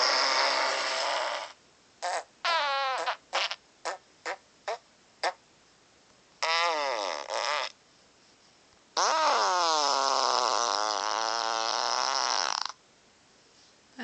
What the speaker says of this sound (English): So this is the fart soundboard.